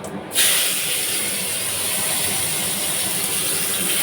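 Onions added to hot tempering oil in a pan burst into a loud, steady sizzle that starts abruptly after a brief quiet moment and continues at full strength to the end.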